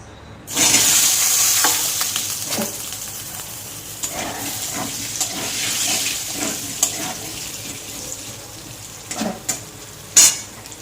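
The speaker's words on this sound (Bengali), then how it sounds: "এবার এই তেলে আলু কটা ভেজে নেব, দিয়ে দেবো আলু।" Potatoes dropped into hot oil left from frying boal fish, an abrupt onset of loud hissing sizzle that settles into steady close frying with occasional clinks and scrapes of a utensil in the pan.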